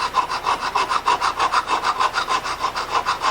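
Steady back-and-forth rasping of a file grinding and recrowning the frets on a Strat guitar neck during a luthier build, a close, rhythmic stroke roughly every quarter second with no talking.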